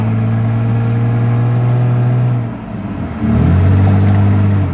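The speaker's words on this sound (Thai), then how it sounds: "ฟังเสียงเครื่อง" Inside a Toyota Crown hybrid fitted with a 2JZ engine on a rural road test drive, the engine drones loudly and steadily, dips briefly, then surges back as the revs climb. No one talks.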